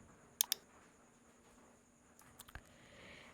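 Sharp computer mouse clicks come near the mic in pairs, with a quick double click early on and a few more clicks later against a quiet background hum.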